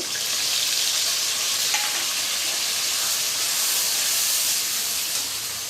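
Onion paste added to hot oil with fried potatoes and cumin gives a loud, steady, close hiss and sizzle that holds evenly throughout, with no talking.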